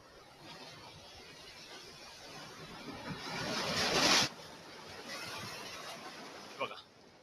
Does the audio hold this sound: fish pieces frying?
no